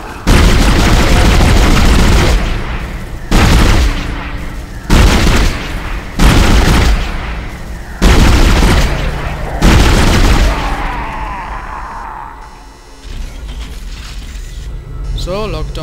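Loud gunfire and heavy booming explosions from the Dead Space video game come in a series of sharp bursts, one after another, each followed by a brief decaying rumble. The clip ends on quieter mechanical ambience.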